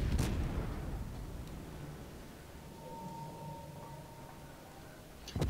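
In a naval video game, the destroyer Fletcher detonates an enemy ship: a heavy boom opens, trailing into a long, low rumbling wash that slowly fades, with another sharp hit at the very end.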